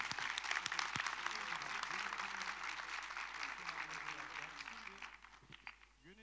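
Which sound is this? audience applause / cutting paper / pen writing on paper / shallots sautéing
audience applause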